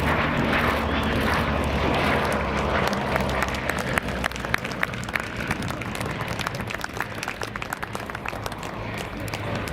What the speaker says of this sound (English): on its final pass from the Aircraft Restoration Company at Duxford, the Bristol Blenheim 1F